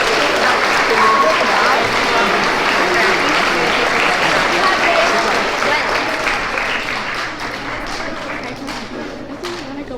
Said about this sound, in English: All right, round of applause for 5th grade.